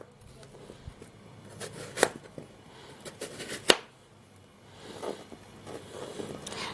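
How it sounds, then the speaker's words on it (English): Kitchen knife cutting into a piece of watermelon, two crisp slicing cracks followed by softer scraping and wet rustling, close and moderately quiet. "I'm gonna be taking just a little piece from the watermelon. Alright, so I love to just cut this way."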